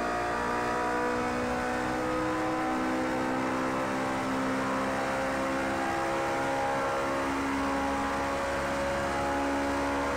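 A pack of LMP2 and GT race cars in Project CARS 2, a continuous loud engine roar with layered high-revving whines from several cars running together, steady throughout with no talk.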